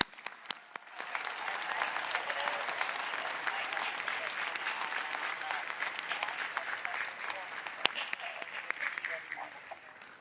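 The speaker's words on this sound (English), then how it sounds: "They do deserve an applause" Graduation convocation audience applauding faculty and staff: a few scattered claps grow into sustained, even applause that carries on steadily at a moderate distance for most of the stretch.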